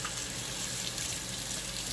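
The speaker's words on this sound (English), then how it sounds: "I'm going to wash my hands real quick" A kitchen tap runs steadily as hands are washed under it, a continuous close splashing hiss of water with no voices, while cooking chicken nuggets for an air fryer.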